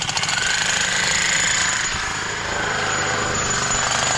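A large power drill grinds loudly and continuously with a harsh buzzing hum, running steadily for several seconds without pause or talk.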